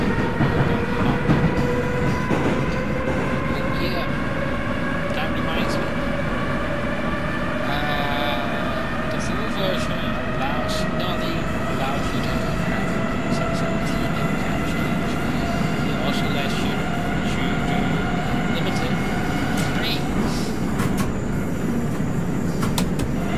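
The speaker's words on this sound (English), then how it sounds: "There's a train." A subway train runs continuously in the video game Subtransit Drive, a loud steady rumble with rising motor whine and faint clicking of wheels over rail joints, with no speech over it.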